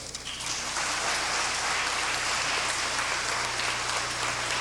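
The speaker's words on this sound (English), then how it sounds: "can you just hold the applause so that we can go through the introductions" Audience applause at an indoor school gathering, a dense, loud, continuous roar of clapping from a large crowd, sustained evenly throughout without speech.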